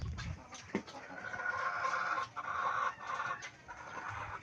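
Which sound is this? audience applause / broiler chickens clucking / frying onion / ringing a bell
broiler chickens clucking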